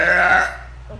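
A single loud, drawn-out burp from a woman, close to the microphone, which trails off about halfway through the moment.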